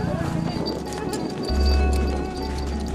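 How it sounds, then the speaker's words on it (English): Horses ridden by a group of tourists across the volcanic sand sea toward Losman, with soft hoof clip-clop and steady walking movement, a deeper rumble swelling midway, and nearby voices in the background. "We jump on our horses and head back to Losman across the Sand Sea."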